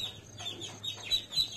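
A Peruvedai mother hen with her chicks makes soft, high chirps and light clucking, close by, in a few short calls over faint background hum.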